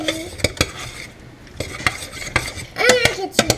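Venison seasoned with a heavy dose of white pepper being stirred in a pan, with repeated sharp utensil scrapes and clinks against the metal in an irregular rhythm over a faint background sizzle.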